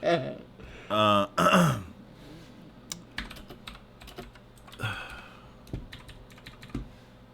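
Close, crisp computer-keyboard typing during a live stream, bursts of rapid key clicks after a few loud burp-like vocal noises at the start, with another brief vocal sound midway.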